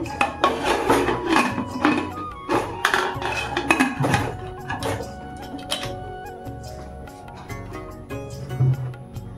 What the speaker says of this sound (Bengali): ঢাকনাটা লাগিয়ে দিচ্ছি